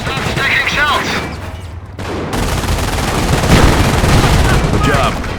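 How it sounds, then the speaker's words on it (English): A Panzer tank in Company of Heroes fires in rapid succession, heavy blasts and rattling bursts crowding together, loud and close, with a brief lull before the barrage resumes. "The Panzer is able to fire more quickly."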